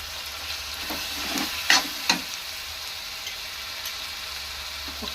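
Chopped onions and tomatoes frying in a pan for an egg omelette curry, a steady soft sizzle with a few sharp scraping stirs of a spoon, no talking.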